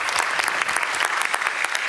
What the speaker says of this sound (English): Please, round of applause for Kirsten Dunlop.